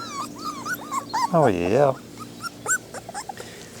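Young puppies whimper and yip in short, high, close cries, with one longer wavering whine, while someone talks softly to them in between.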